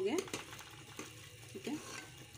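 A masala curry cooks in a pot with ghee as a spoon stirs it, giving a soft, low bubbling sizzle with a few gentle scraping strokes, faint and close.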